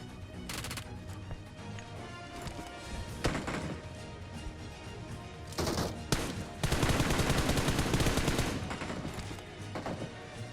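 Gunfire in the battle royale game BGMI: rapid automatic bursts and single shots, loud and close, building to a dense sustained volley near the end, with no talking.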